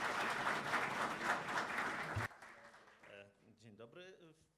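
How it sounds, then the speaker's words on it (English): An audience at a European cross-border cooperation funding event claps in dense, steady applause for about two seconds before it cuts off and a voice begins speaking. "A round of applause."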